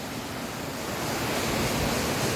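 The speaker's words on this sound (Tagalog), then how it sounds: "Ayun, yung ilog." A river flows near Longfeng Waterfalls in Nantou, Taiwan, a steady broadband rush of moving water that sounds close and continuous, with no voices.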